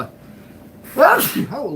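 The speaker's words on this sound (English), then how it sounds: "First time I've ever sneezed on the show." A single sharp sneeze bursts out after a quiet stretch, close and loud, with voice-like sound trailing right after it.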